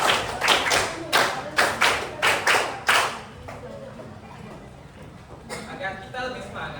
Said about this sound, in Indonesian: Tepuk satu, tepuk dua, tepuk lima dua kali.